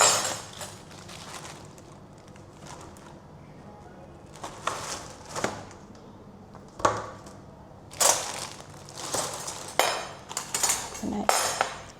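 Plastic plates and cutlery clatter and scrape in irregular bursts, close by, with light knocks and rustling between the louder clinks.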